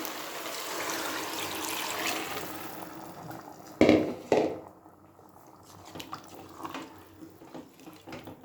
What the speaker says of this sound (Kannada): ನೀರು ಸೇರಿಸ್ಕೊಳ್ತಾ ಇದ್ದೀನಿ.